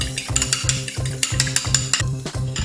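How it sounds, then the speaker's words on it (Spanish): An egg being whisked in a small bowl, a fast even run of clicking, scraping strokes, about three per second, close up with no talking. "vamos a batirlo aquí un poco primero"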